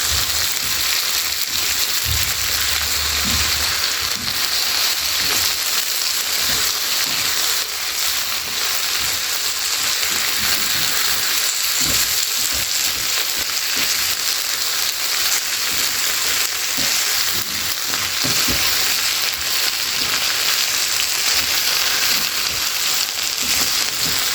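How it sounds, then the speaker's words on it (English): Okra frying in hot oil in a pot as it is slowly stirred, a steady loud sizzle and crackle with occasional soft scrapes of the spoon. "Stir in the okra slowly so that it can get the oil"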